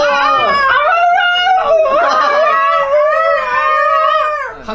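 A person's voice imitates a dog howling, with loud, close, wavering howls that slide up and down almost without a break.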